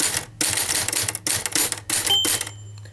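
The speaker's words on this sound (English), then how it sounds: "Okay, so say you've started typing," Typing on a Royal KHM manual typewriter, with sharp rapid keystrokes in quick bursts. The bursts are split by short pauses, and a ringing bell tone sounds near the end, close and clear.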